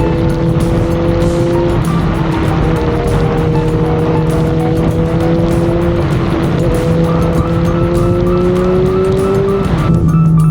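A Kawasaki Z900 motorcycle engine drones loudly and steadily while riding, its pitch climbing as it accelerates, then dropping briefly before rising again near the end.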